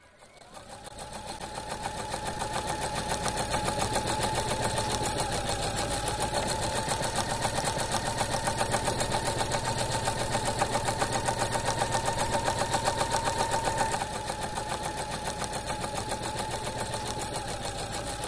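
A sewing machine, pedal-driven rather than motorized, runs steadily with a fast rhythmic mechanical whirr and clatter, close and continuous throughout.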